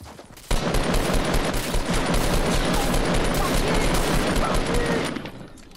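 Sustained automatic gunfire sprays without a break in a battle royale video game, loud and dense for about five seconds after a brief quiet start, with no talk over it.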